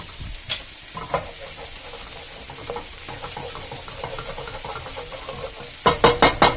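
Garlic frying in a pan for gnocchi soup, a constant close sizzle broken by scattered scraping stir strokes that grow into a quick series of louder scrapes at the end.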